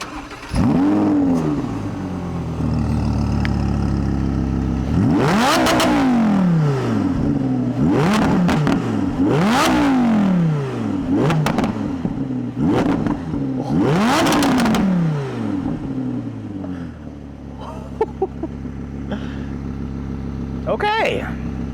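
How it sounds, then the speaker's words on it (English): A 2020 Audi R8 with a naturally aspirated V10 starts up and is revved hard several times, each sharp climb of the loud mid-engine howl falling back to a throbbing idle, close by. "Let's fire up that V10 and hear how it sounds."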